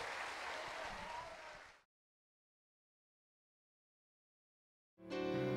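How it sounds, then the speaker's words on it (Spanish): Brief, loud applause and clapping from a congregation at a religious revival event in Oaxaca cuts off abruptly into silence, followed by a loud tonal sound at the end. "Fuerte, fuerte ese aplauso a Jesucristo."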